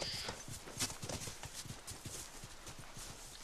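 Horse hooves clip-clop at a walking pace in The Last of Us on PS3, a steady, fairly quiet series of hoofbeats with faint background ambience.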